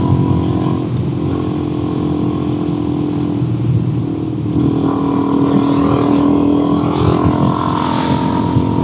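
A Suzuki DRZ dual sport motorcycle rides a winding road in Queensland, its steady engine drone mixed with wind rush, loud and close, swelling slightly midway as it pulls through corners.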